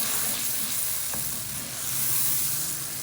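Ginger powder, garlic powder and turmeric stirred together in a hot pan for moong dal, giving a steady soft sizzle with a brief scrape of the spoon, close and alone without talk.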